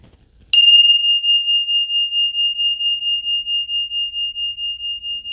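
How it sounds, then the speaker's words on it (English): A single small bell is struck once before a tarot reading, giving a bright, clear ring that sustains with a slow pulsing shimmer as it fades over several seconds. "Let me ring the bells first."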